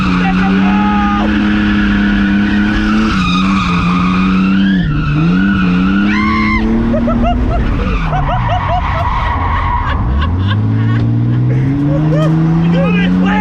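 A drifting car on a practice track, its tyres skidding and squealing through repeated slides while the engine revs rise and fall, close and loud, with excited voices talking over it.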